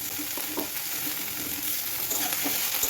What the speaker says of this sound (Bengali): টমেটো অ্যাড করে এটাকে আমি কিছুক্ষণ এটাকে ভেজে নেব।